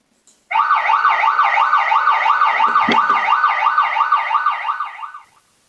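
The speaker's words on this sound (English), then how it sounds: "first is the outside microphone, just picking up the siren outside." An emergency vehicle siren wails in a fast, regular up-and-down cycle, captured by a microphone mounted outside a vehicle, loud and steady for about five seconds before fading out.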